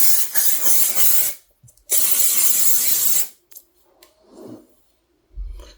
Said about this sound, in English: It's that shine spray. So I'm just going to give that a little go through the hair.